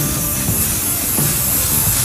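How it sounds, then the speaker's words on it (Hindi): Fixative spray from an aerosol can being sprayed onto a finished drawing, a steady loud broadband hiss lasting throughout with slight pulsing as the nozzle is pressed. "तो अब हम इसके ऊपर इसको स्प्रे करेंगे।"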